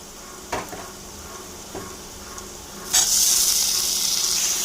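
Tomato drops into a pan of frying onion and chili: a few soft clinks and scrapes, then a sudden loud, steady hiss of sizzling that carries on to the end.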